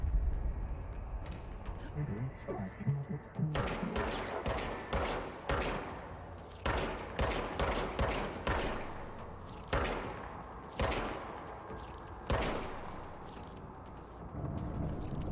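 Repeated gunshots from the service weapon in the video game Control, a string of sharp loud bursts in irregular rhythm over a low rumbling game background, with a voice talking at times.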